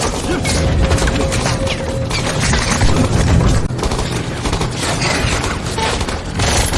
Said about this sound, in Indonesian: serangan roket meledakkan mobil tempur yang diikuti tembakan-tembakan yang berasal dari warga sipil bersenjata